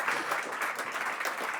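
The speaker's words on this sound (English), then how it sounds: "We can give an applause, right?" Conference audience applauding a speaker at a talk in Belgium: a steady, dense clatter of many hands clapping for a short burst, moderately loud and continuous with no voices on top.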